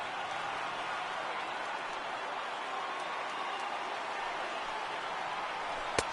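Steady, loud roar of a Yankee Stadium crowd on its feet in the MLB The Show 18 baseball video game, Red Sox versus Yankees, holding an even wash of noise with a sharp click at the very end.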